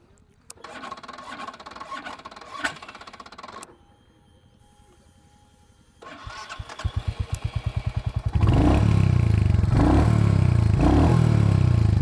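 A Royal Enfield Hunter 350 with the J-series single-cylinder engine: mechanical clatter and clicks give way to a brief quiet, then the engine starts and settles into a loud, close, steady thumping idle.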